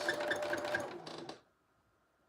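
A sewing machine runs a back stitch on a red fabric headband, a rapid close whirring for over a second before it stops, leaving near silence and a small click at the end.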